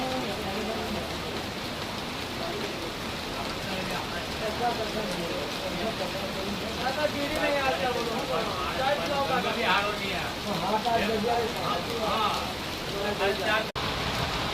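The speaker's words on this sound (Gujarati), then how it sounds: "વરસાદ જોરદાર પડી રહ્યો છે, જબરજસ્ત." Heavy rain pours down steadily in a dense hiss, with a voice talking over it partway through.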